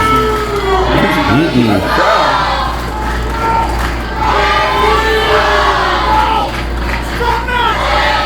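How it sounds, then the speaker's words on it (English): Indie pro wrestling crowd booing and jeering in a packed venue, a loud continuous wash of voices with yells rising over it, while a commentator talks near the mic. "Crowd not happy about it."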